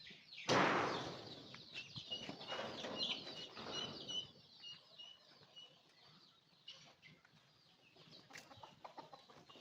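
Free-ranging country chickens on an open organic farm cluck and chatter outdoors after a sudden loud burst at the start, their calls continuing at varying distances with no talking.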